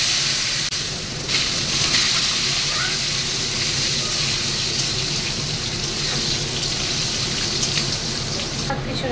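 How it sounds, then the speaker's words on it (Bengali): Potatoes drop into hot oil that has been toasting cumin in a home kitchen, producing a steady, loud hiss and sizzle of frying that continues without a break. "দেখো ভাজা হয়ে গেছে, এবার আমি আলুগুলো দিয়ে দিচ্ছি।"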